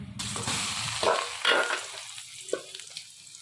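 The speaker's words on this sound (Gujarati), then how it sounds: "હવે તેલ ગરમ થાય છે હવે આપણે એમાં બટાકા નાખી દઈશું" Potato pieces hitting hot oil in a home kitchen pan set off a bright sizzle that flares in a few bursts and then settles into steady frying, close and fairly loud.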